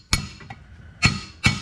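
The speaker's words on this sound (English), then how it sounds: "tap it with the hammer on the top until it's pretty much flush" Hammer tapping a swing arm pin into a Yamaha Raptor 700, three sharp metallic knocks, the first alone and the last two closer together, near and fairly loud.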